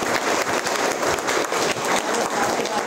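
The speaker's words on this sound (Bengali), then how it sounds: "আমাদের স্যারের জন্য জোরদার একটা করতালি হয়ে যাক।" An audience at a training session claps loudly and densely for their teacher, sustained applause filling the whole moment.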